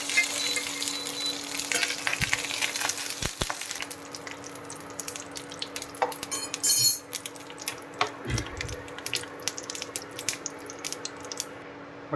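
A soft, steady sizzle of a little oil heating in a frying pan, with a few sharp clinks of metal utensils and a low background hum.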